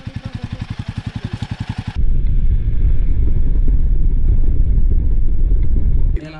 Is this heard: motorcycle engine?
yes